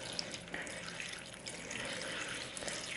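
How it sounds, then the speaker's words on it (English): Water poured from a can onto the roots of a potted plant, a soft, quiet trickle and splash that runs fairly steadily with small drips, close and alone. "I usually try to water these over the roots"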